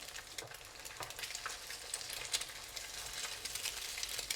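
Separated eggs frying in sesame oil in a pan until the edges crisp, a continuous soft crackling sizzle with scattered pops, close but fairly quiet, steady throughout.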